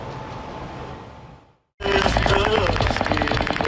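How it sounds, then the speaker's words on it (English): A brief hush, then a sudden dense burst of rapid gunfire, loud and continuous, the shots crackling in quick succession for several seconds, during the Las Vegas mass shooting. "The terrifying shots ringing out."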